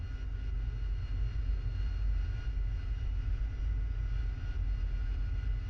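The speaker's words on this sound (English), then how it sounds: "There's a Chinook over there" A Chinook helicopter in the DCS flight simulator, heard as a steady, fairly quiet low rumble of rotors and engines droning continuously in the background, with no speech.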